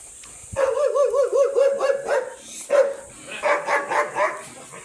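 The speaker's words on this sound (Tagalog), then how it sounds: "Ang laki ng aso mga guys galit sa akin." A large, angry dog barks repeatedly in close, loud bursts with rhythmic, tonal yelps, pausing briefly before another run of barking.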